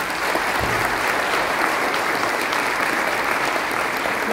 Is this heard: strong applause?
yes